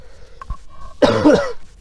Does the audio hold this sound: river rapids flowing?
no